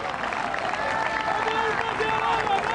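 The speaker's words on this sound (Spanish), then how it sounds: "Podemos dar un aplauso grande de alabanza al Dios eterno" Crowd at an outdoor park religious gathering applauding in praise, a broad wash of clapping running steadily beneath a voice that keeps speaking.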